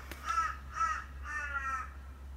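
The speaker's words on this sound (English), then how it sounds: "So sorry about that big annoying crow." A big crow caws four times in harsh, evenly spaced calls, fairly close and clear, over a steady low background hum with no talking.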